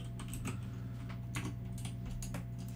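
Keys on a computer keyboard are pressed in a quick, irregular series of light clicks and taps over a low, steady background hum, with no talking.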